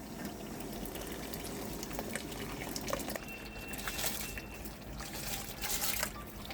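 Half-hour-soaked rice tipped into a pot of boiling water with a little white oil: continuous close bubbling and pouring water, a dense watery wash that swells slightly in the second half.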